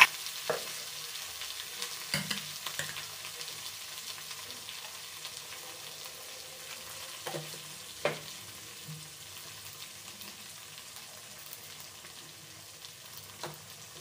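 Eggplant and greens frying in oil in a home kitchen, a steady soft sizzle with occasional stirring clatters and scrapes of the utensil against the pan, no voices.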